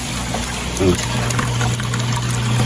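Water draining through the drainage system of a vertical crab fattening filtration setup: a steady close trickle over a constant low pump-like hum, with a faint voice murmur briefly.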